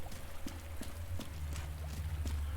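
Heavy footsteps of a pursuer approach in Resident Evil 2, with evenly spaced thuds about every half second over a low rumbling game ambience.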